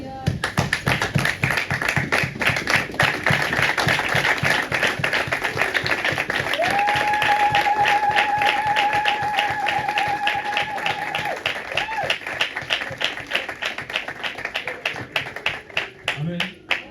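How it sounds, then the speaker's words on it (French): A church congregation at a Sunday service stands and claps, sharp individual claps repeating in a quick, fairly regular rhythm throughout, with a sustained tone and some voices mixed in partway through. "Levons-nous en applaudissant pour la parole de Dieu."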